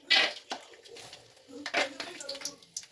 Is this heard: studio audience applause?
no